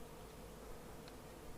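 A large honey bee colony taken from a rotten tree drones on while being transferred into a ten-frame hive box. The buzzing is an even, close-up swarm hum that never lets up, with one brief higher blip near the end and no voices.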